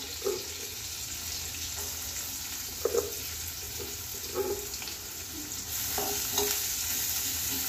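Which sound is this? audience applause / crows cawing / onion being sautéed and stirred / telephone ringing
onion being sautéed and stirred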